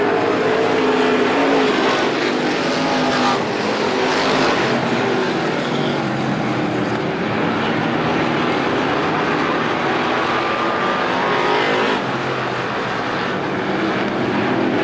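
Stock cars race around the oval at Star Speedway, a loud continuous engine roar from a pack of cars that swells and holds without a break, heard from trackside with no speech.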